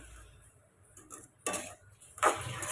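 A spoon clatters against a pot while cooked rice is stirred into thick gravy, a few sharp metallic scrapes and clinks spaced across a couple of seconds, close and without talk.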